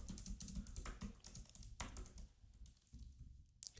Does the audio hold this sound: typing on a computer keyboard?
yes